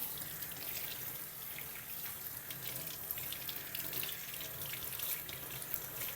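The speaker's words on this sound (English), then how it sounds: "So now I'm just going to rinse." Tap water runs steadily into a sink as fingers and an etched glass are rinsed beneath it, a soft continuous splashing hiss without talk.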